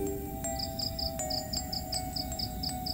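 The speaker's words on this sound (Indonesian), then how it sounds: "Sora jangkrik ngikrik." Crickets chirp at night in a regular pulsing series of bright trills over a low background hum, close and steady without any talking.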